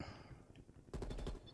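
Unsuppressed automatic gunfire in Black Ops Cold War multiplayer: a loud, rapid burst of about six shots in quick rhythm, preceded by quieter game ambience.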